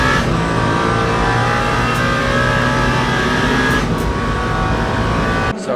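Racing car engine in Le Mans Ultimate, a 24 Hours of Le Mans race sim, droning steadily and loudly as the car drives into pit lane, with a sustained rising and holding tone that cuts off sharply near the end.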